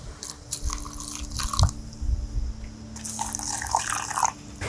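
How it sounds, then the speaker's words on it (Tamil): Water poured into soil mixed with herbal powder gives intermittent trickling and dripping at moderate loudness, with short splashy bursts and no talking. "இப்போ 2லையும் இப்போ நம்ம தண்ணி ஊற்ற போகிறோம்"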